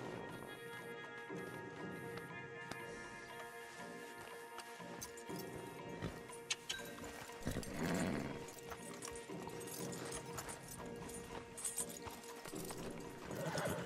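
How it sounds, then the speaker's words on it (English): Horses trot with steady clip-clopping hooves and a whinny in the western video game Red Dead Redemption 2, several animals close by, moderately loud with rustling and light clatter, little talk. "Javier, you're gonna lead the stallions."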